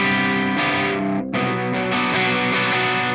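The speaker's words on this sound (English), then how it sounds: "if I pick a little bit harder, you can hear the distortion start to come in" A Joyo Bantamp Meteor II XL hybrid guitar amp pushes into tube saturation as the strings are picked harder, giving sustained, loud, slightly gritty chords that ring on with a brief dip partway through.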